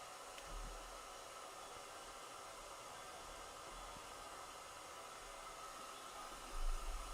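A blow dryer runs close by with a constant, even rushing hiss, alone and unbroken apart from a brief low bump near the end.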